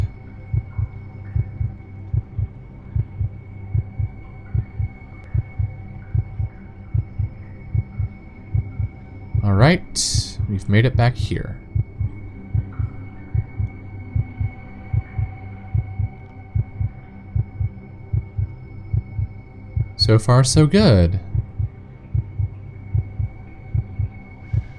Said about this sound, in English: Is it just me or is the heart beating getting louder?